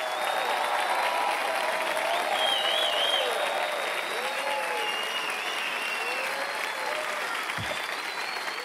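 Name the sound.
audience applause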